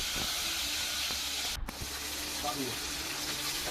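Fish heads fry in hot oil for muri ghonto, giving a steady broadband hiss and steam with a few brief clatters, under faint talk.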